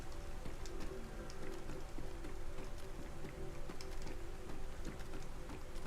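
Rain falls steadily in the DayZ video game, a dense continuous patter with scattered drop ticks and a faint mechanical hum underneath, no voices.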